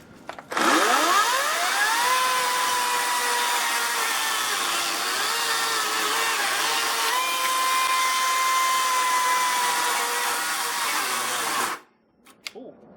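A Ryobi 40-volt Gen 3 cordless chainsaw spins up with a rising whine, then holds a loud, steady high-pitched buzz as it cuts wood. The pitch dips slightly under load before the saw stalls abruptly near the end and falls quiet.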